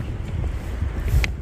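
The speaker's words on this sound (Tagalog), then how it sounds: "Kung naririnig nyo ang hangin, ang lakas." Strong wind buffets the microphone in low, gusty rumbles in a snowy outdoor setting, with a faint brief higher sound near the end.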